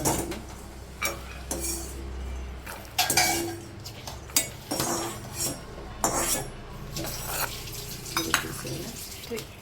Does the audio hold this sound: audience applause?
no